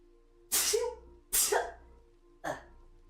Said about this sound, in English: Oh dear, I'm about to sneeze.